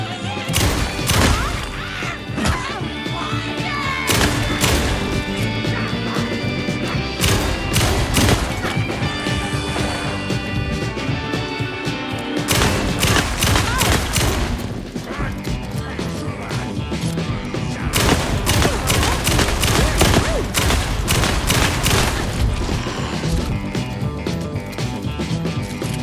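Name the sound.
gunfire in the video game Alan Wake 2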